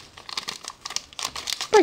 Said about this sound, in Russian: разрыхлитель. Пакетик маленький.